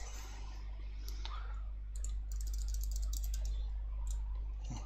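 Light, quick clicking of typing on a computer keyboard, faint and close over a steady low hum.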